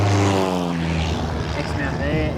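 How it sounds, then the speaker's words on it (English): Propeller engine of a spotter plane flying over the sea off Exmouth, a close, steady droning hum with a pitch that slides downward as it passes overhead, with a voice speaking over it. "The spotter plane guides us to the shark."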